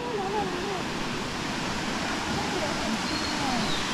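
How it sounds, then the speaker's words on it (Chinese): Songlongyan Waterfall at Shanlinxi in Zhushan, Nantou, Taiwan, gives off a steady, loud broadband roar of rushing water that holds unbroken through the whole stretch. "哇哦，快到瀑布了。"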